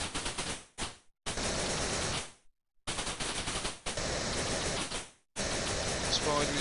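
Rapid bursts of shooting from the arcade game Tempest as the player blasts a spidery enemy, rattling machine-gun-like volleys broken by short silent gaps, loud and close.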